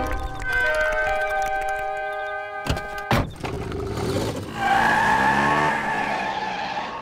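A cartoon car speeds off with long, loud tire squeals and skidding over a sustained engine tone, a few sharp bangs in the middle, then a second rising screech, all close and with no talk.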